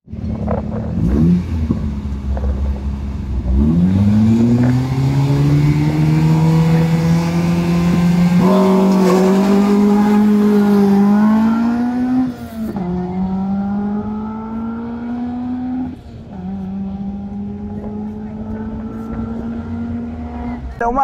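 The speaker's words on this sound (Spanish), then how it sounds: "Se aproxima aquí la siguiente máquina, el 201. Pasó raudamente" A rally car at the Premio Ciudad de Mollendo rally approaches and passes at speed, its engine climbing loudly through rising revs and several gear changes before fading off, with a commentator talking over it.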